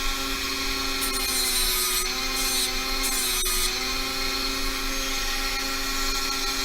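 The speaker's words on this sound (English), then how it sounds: "I just used the sanding disc to bring down that edge where it wasn't matching, so that now it matches." A sanding disc grinds the edge of a beaded wide band ring, giving a steady, high-pitched whine with a few brief drops in pitch. The sound runs close and constant, and no one speaks.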